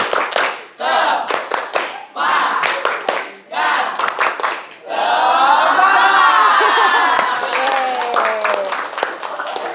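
A classroom of students performs a rhythmic spirit clap in a group: bursts of sharp synchronized claps alternate with loud chanting and cheering voices, close and energetic, with a sustained shouted stretch in the middle.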